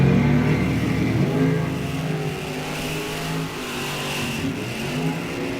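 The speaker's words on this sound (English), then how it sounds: "Another pair of Camaros on the starting line." Pair of Chevrolet Camaro drag race cars at an ET series event, engines roaring loud and steady from the starting line, with a strong rumble easing slightly after the first seconds.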